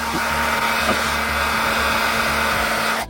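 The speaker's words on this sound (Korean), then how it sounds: "이런 헤어드라이기 같은 거를 사용하시면은 비교적 깔끔하게 스티커가 제거될 수 있습니다." A hair dryer blows steadily and loudly for about three seconds, a constant whooshing roar with a motor whine that cuts off at the end, used to heat and remove a sticker.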